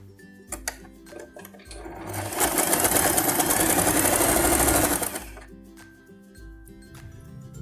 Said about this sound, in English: Now I will stitch the fabrics together